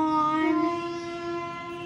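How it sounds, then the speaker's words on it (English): Real-life train passing outside a room, heard as a steady, fairly loud tonal horn or whistle with a rumbling undertone for the whole short stretch, without talk. "Oh wait, there's a train noise."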